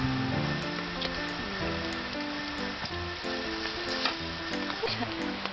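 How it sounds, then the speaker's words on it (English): Butter sizzles and crackles steadily in a hot frying pan, loud and close, as French toast is cooked, with a low background hum and a few sharp clicks scattered throughout and no talking. "My pan was hot enough so I can smear some butter on"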